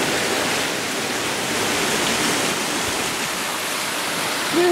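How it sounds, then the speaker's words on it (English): A steady, loud rush of a waterfall at the ABQ BioPark Botanic Garden in Albuquerque, New Mexico, constant and broadband, with no voices. "I was gonna say, I knew I heard a waterfall."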